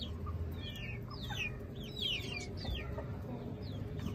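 Chickens cluck and chirp around a yard near a newly bought rooster, a scatter of short rising calls from several birds over steady outdoor background noise, moderately close and with no voices.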